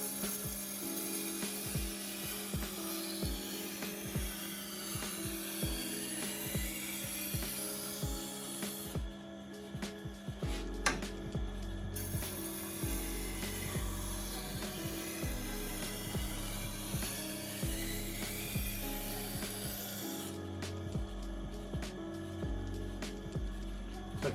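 A blade is ground on an 80 grit sharpening wheel, giving a steady close mechanical whir and grinding drone that shifts in pitch partway through, with no voices.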